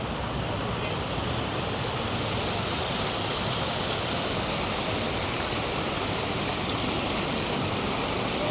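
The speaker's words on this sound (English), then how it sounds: "Sound of water never gets boring." Flowing water in the High Line gardens in New York City, a steady broadband rush with no breaks, fairly close and even throughout.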